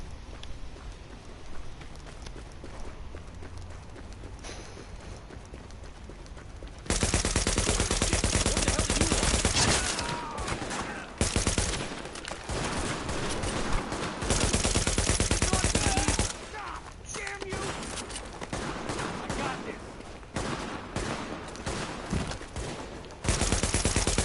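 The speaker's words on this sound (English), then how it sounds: "Warning, supplies taking fire." Sustained bursts of automatic gunfire in The Division, loud and dense, stopping and restarting several times, with a quieter stretch of scattered shots at the start.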